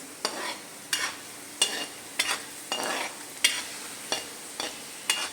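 Round gourd (tinda) pieces fry in a pan while a spatula stirs them, about nine sharp scraping strokes at a steady pace over a soft continuous sizzle, close and moderately quiet, with no talk.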